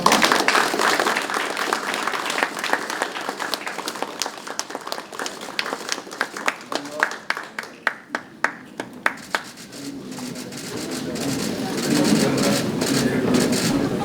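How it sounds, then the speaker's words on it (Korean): An audience at an anniversary ceremony claps loudly and steadily, the applause thinning into a few scattered separate claps before fading into a softer room murmur. "박수 한번 부탁드리겠습니다."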